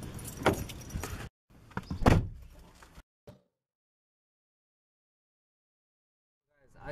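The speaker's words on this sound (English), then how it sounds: "we're gonna hop into the car again" People climb into a car with rustling and shuffling, then a door shuts with a solid thud before a long stretch of near silence and a faint rustle at the end.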